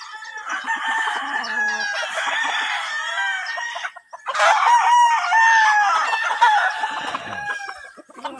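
Game-farm chickens cluck and crow almost continuously, with several birds calling over one another close by, a rooster crowing partway through.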